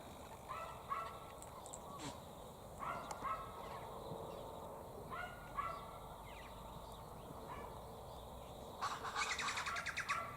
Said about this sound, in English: What a gorgeous bird.